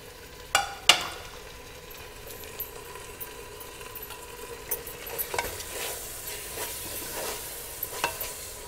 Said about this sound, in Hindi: इसे 2 से 3 बार चलाना है आपने मसाला डालने के बाद।